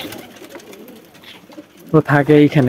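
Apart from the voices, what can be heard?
king pigeon cooing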